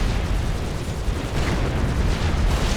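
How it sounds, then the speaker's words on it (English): Flak explosions tear through units in Supreme Commander: Forged Alliance Forever during a 2v2 ladder battle, a dense continuous rumble of blasts and booming bursts filling the whole stretch with no pause. "all the labs die in a flak explosion"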